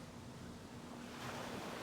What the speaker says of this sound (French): Les vagues frappent les dunes du désert.